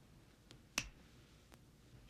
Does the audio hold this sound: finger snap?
yes